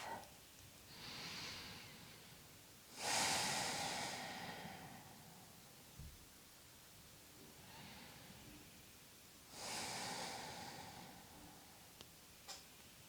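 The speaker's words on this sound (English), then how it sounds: "Deepen the breath." Slow, deep breaths during a yoga session, with two long airy inhale-exhale cycles rising and fading, heard close and soft in a quiet room.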